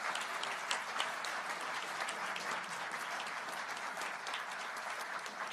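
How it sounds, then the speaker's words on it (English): Steady, sustained applause from a large crowd celebrating a nuclear fusion breakthrough, dense clapping that holds at an even level throughout with no talking. "Big applause"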